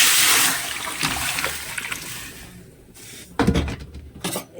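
Raw jackfruit pieces splash into a pan of water set to boil with salt and turmeric, with sloshing and sharp splashes that swell in two bursts toward the end.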